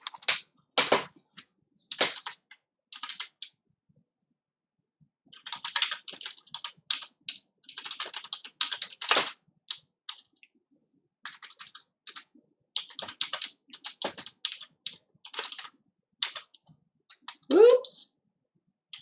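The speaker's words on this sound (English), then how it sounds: "Let me just type this in." Rapid bursts of computer keyboard typing come in irregular runs, close and clear, with short pauses between flurries and a brief voice near the end.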